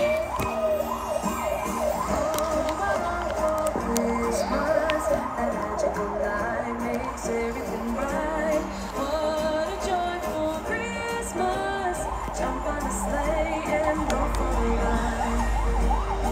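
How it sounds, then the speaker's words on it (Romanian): An ambulance siren wails continuously with rising and falling tones, fairly loud and steady throughout, with a low rumble of traffic underneath. "o ambulanță aici face călăgie ea"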